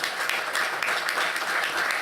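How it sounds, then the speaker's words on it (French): A crowd claps in dense, continuous applause, a steady patter of many hands that holds even throughout the brief stretch. "Oui, on peut l'applaudir."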